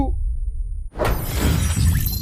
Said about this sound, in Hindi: मैंने यहाँ पे ग्रेनेड कुक किया एंड 3 2